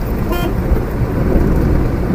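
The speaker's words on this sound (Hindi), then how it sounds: "I am driving my car at 80 kilometers per hour." A Tata Nano car cruising on a highway at 80 km/h produces a steady, loud rush of road and engine noise from inside the cabin, with a short horn toot early on.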